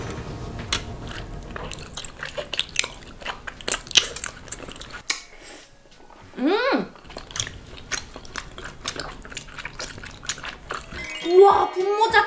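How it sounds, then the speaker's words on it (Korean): Someone eats bunmozi glass noodles from spicy mala tteokbokki, with close, wet slurping and chewy munching. There are soft squishes and one long slurp partway through. "그럼 마라 떡볶이부터 먹어보겠습니다."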